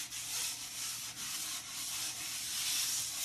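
Light hand sanding of a painted Queen Anne end table before a clear top coat, a steady close scratchy rubbing that runs continuously without pause.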